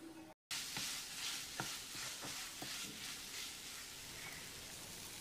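Steady sizzling and scraping in a pan as spiced eggs are stirred and fried, with a few soft clinks of a utensil; no talking.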